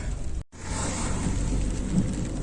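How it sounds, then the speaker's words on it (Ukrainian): Steady rain pours down in Lviv, a dense continuous hiss with low rumbling underneath, heard from inside a taxi without any talk. "У Львові дощ то є, то нема, то є, то нема"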